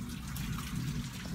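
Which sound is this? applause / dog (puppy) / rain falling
rain falling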